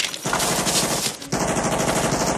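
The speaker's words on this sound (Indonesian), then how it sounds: "Tiba-tiba seorang prajurit yang panik menembakkan senjatanya." Sustained automatic gunfire erupts in a dense, loud rattle from a soldier's weapon during a Vietnam War patrol, a brief lull near the middle before the burst resumes and continues to the end.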